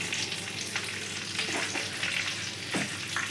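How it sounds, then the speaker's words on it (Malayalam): Mustard seeds splutter and crackle in hot oil in a pan as the base for a fish curry, a dense, continuous sizzle with frequent sharp pops, close and loud. "അമ്മ കടുകിട്ട്, കടുക് പൊട്ടും"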